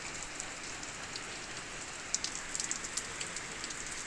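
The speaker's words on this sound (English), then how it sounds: "It's raining out." Steady rain falls outdoors as a soft, even wash of patter, with a few slightly sharper drops landing near the end.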